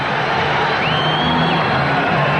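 Basketball arena crowd roaring and cheering during a timeout at a 1983 NBA Western Conference Finals playoff game, Lakers at Spurs, a continuous loud wash of voices with a few whoops rising above it.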